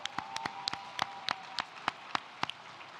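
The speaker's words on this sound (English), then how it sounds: "A round of applause for all of them, all together," Sparse, thin clapping at a NAACP Freedom Fund Dinner honoring Emmett Till Award recipients, a few isolated claps in an irregular patter over a faint room hum, quiet and tentative rather than a full ovation.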